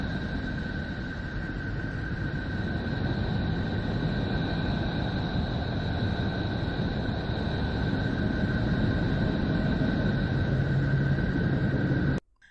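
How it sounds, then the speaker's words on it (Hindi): Voyager readings from Neptune turned into sound: a steady, dense roar like ocean waves, with faint sustained whistling tones above, continuing unbroken at even loudness before cutting off abruptly at the end. "ये जो भी आप सुन पा रहे हैं ये नेपच्यून की आवाज है।"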